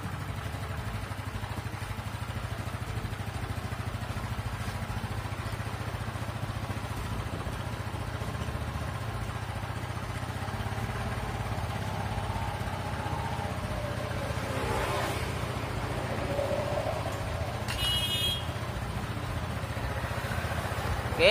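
Motorcycle engine with a carburetor idling steadily at close range, a continuous low throb that holds even through the whole stretch while the throttle is adjusted, with faint clatter in the background and no talking.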